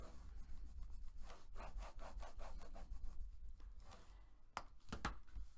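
Paper is burnished down onto a card album, heard as a series of quick, rhythmic rubbing strokes, close and fairly quiet, followed by a couple of sharper scrapes.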